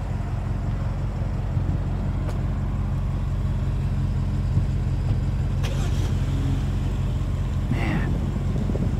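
A BMW X5 M SUV with 21-inch M wheels rumbles steadily at low idle as it is moved, a constant deep engine drone throughout with faint passing noises above it.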